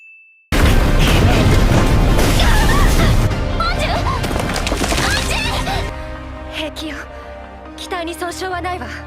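Explosions from the anime 86 Eighty Six burst out loud after a short tone, with heavy crashing and splintering debris, then fade into a quieter stretch of music and effects.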